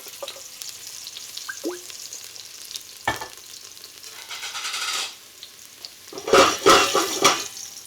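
Olive oil heated in a pan over high heat crackles into a sizzle, with a few light scrapes and clinks first, then loud, bursting frying noise that swells and fades in waves near the end.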